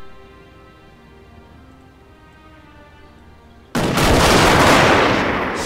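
A Gatling gun firing in the Total War: Shogun 2 strategy game, a sudden dense roar of rapid gunfire breaking in after a quiet, humming stretch and holding loud to the end.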